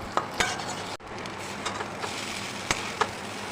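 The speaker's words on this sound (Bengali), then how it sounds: "নাড়িয়ে নাড়িয়ে নেবো, ব্যাস কমপ্লিট হয়ে যাবে" Chow mein is stirred in a hot pan, with a soft steady sizzle under intermittent scraping taps of a spatula against the metal, fairly quiet and close, with no voices.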